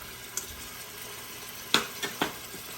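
Cinnamon stick, cloves and a cardamom pod fry in oil for a shrimp biryani, a quiet low sizzle broken by a few sharp clinks and scrapes of a spoon against the pot near the end.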